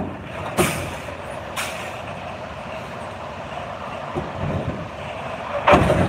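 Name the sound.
truck coupling to a trailer with air brakes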